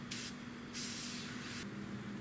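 Two hissing bursts of spray paint on a Tamiya P-47M scale model, a short one then a longer one, close by over a steady low electrical hum.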